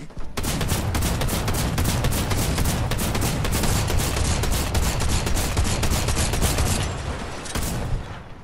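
Dense, rapid gunfire in the Fortnite video game, a nonstop loud fusillade of repeated shots packed tightly together across the whole stretch, with only a brief dip near the end before the firing resumes.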